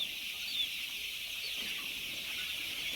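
Twenty-day-old country (gavran) chicks on a 3,500-bird poultry farm keep up a dense, continuous chorus of high peeping and clucking, with no gaps.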